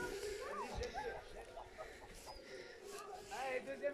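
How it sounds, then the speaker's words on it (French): A small rooster and hens cluck and call on a farm, several short bird calls scattered over faint outdoor background, with a person speaking nearby. "Eh bien, on a un petit coq"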